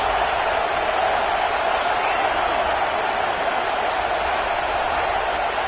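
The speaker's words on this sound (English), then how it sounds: "Listen to this crowd just shaking the girders of this place" A packed football stadium crowd roars in a dense, continuous wall of cheering and noise, steady and loud throughout as fans try to lift their defense.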